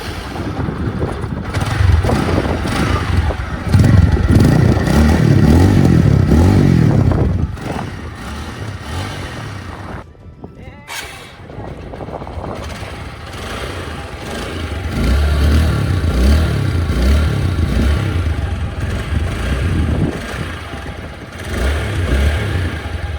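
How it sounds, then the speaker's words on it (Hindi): A TVS Apache 4V motorcycle's exhaust revs loudly in sustained bursts. The engine drops to a quieter idle-like lull midway, then rises again. No one speaks. "और दोनों ही बाइक्स के एग्जॉस्ट नोट्स मुझे काफ़ी अच्छे लगते हैं"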